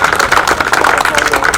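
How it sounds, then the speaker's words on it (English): Applause from members at a Wednesday night classic car club meeting, a steady crackle of many hands clapping close by for under two seconds, with voices mixed in. "Round of applause. Thank you, Mouse and Mary."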